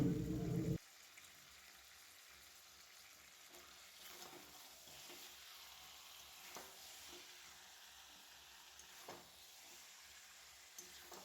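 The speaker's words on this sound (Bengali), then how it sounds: "ভালো করে কষিয়ে নিচ্ছি এই যে মশলাটা আমি" Chicken cooking with spices in a pan gives a faint, steady sizzle, with soft stirring scrapes now and then, heard close but quiet and without speech.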